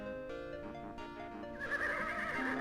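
A horse neighs in a video game, a whinnying call with rising, strained tones lasting a couple of seconds and heard loud and close, with no voices over it.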